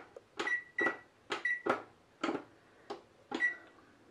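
An oven control beeps as preheating begins for baking sweet potatoes, set to about 550. There are about six short, close beeps, each paired with a button click, at an uneven pace.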